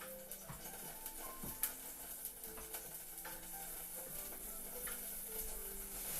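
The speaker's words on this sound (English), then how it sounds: "That's what the sizzling is." Water evaporates and sizzles in a pan while chicken miso soup is being made, a faint continuous crackle and hiss with small scattered pops throughout.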